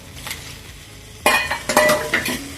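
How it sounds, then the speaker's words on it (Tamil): Chicken liver is sautéed in masala in a pan, quiet sizzling at first, then sharp metal spoon scrapes and clinks as it is stirred. "வதக்கிக்கலாம் ஃப்ரெண்ட்ஸ். மசாலா ஈரல்ல ஒட்டுற மாதிரி."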